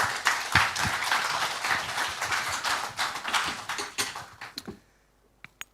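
Audience applause at an international youth seminar roundtable, honouring a panelist: a dense, loud wash of clapping that holds steady for several seconds, then fades quickly to near silence with a couple of stray claps at the end.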